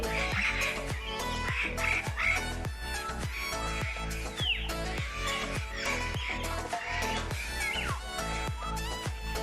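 Birds at a zoo calling in a long run of loud, repeated duck-like quacks, a rapid rhythmic series of calls close by, with a few higher squawks mixed in.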